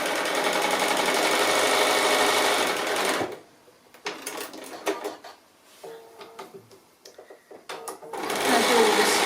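A domestic sewing machine top-stitches fabric for a cutlery pocket, whirring loudly in two steady runs separated by a quieter stretch of small clicks and handling noises.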